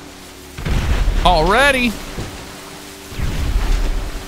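Explosions in GTA Online come as two deep, rumbling bursts, each lasting about a second or more, with a person's voice rising briefly over the first.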